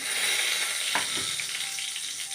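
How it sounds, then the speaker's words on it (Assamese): Small fish fry in a pan with a steady, close hiss and crackle of hot oil, a few brief spits standing out, with no talking. "এনেকৈ সৰু মাছ ভাজি"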